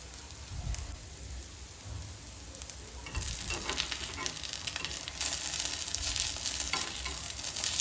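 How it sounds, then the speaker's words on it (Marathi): Stuffed sabudana vadas for a fasting meal shallow-fry in a little oil in a pan, giving a steady close sizzle and crackle that grows louder and denser partway through, with no talking. "इथे एक बाजू व्यवस्थित अशी शिजल्यानंतर दुसरी बाजू पलटी करून घ्यायची आहे"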